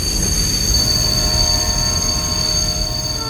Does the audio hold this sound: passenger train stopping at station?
yes